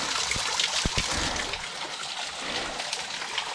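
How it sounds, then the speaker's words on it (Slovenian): A small waterfall along a forest trail gives a steady broadband trickle and splash, continuous and moderately close, with a few brief knocks or thumps early on. "sem tlele prišel do enega slapka, mejhenga"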